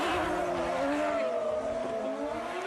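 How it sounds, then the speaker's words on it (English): A Formula Drift Japan car slides with tires squealing, a loud sustained whine over a roaring engine drone that wavers slightly in pitch, heard from trackside with no talk. "Burning some tires there."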